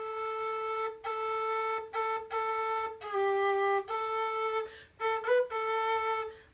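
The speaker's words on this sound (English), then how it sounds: "So it'll split the note, cut all air off, and double the note for you." A low whistle plays a sustained tone that is repeatedly broken by tongued cuts, each leaving a split-second gap before the note resumes, with a few pitch changes near the end; clear, solo and moderately quiet.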